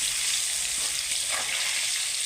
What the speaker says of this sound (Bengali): এবার আমি আলু পেঁপেটা লাল লাল করে ভেজে নেব।